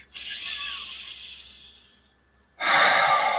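Two deep breaths: a long, drawn-out inhale that slowly fades, a brief pause, then a sharp, louder exhale, close to the microphone with no talking.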